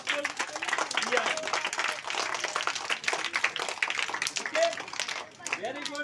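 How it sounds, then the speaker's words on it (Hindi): Children and staff at a school Republic Day celebration in Nagpur clap together, a dense, fairly steady patter of many hands lasting several seconds, with a few voices calling out over it. "सबसे ज्यादा तालियां बजाइए"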